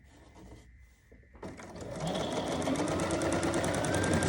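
A sewing machine stitching black apron fabric starts after a few soft handling noises, then runs steadily with a fast, even mechanical whir and rapid needle clatter, close and unaccompanied.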